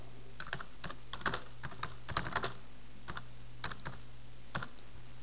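Computer keyboard typing notes into a bookkeeping time sheet: scattered bursts of light key clicks with short pauses between them, close and fairly quiet, with no voices.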